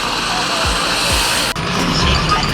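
A steady, loud roar of a helicopter overhead at a drag race, continuous engine and rotor noise with a faint rhythmic throb, no talking.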